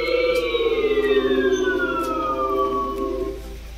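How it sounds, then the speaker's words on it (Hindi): A Move OS 3.0 eclipse mode sound: a smooth, steady tone that sweeps slowly downward in pitch over a few seconds, fairly loud and alone with no voices. "इक्लिप्स मोड की आप आवाज़ सुन पा रहे होंगे"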